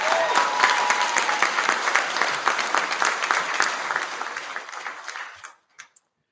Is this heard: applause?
yes